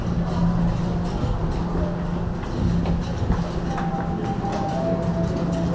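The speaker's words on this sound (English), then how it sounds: "As you can see, the train just arrived." A subway train pulls into Dundas station, a low continuous rumble of the cars with rhythmic clicking and rattling of wheels on track, loud and steady throughout, with no voices over it.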